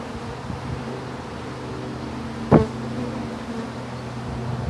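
A swarm of bees clustered on vines hums steadily and close by, a dense continuous buzz with one brief louder burst midway, no voices.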